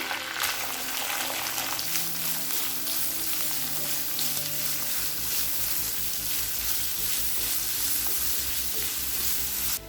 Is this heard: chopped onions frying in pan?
yes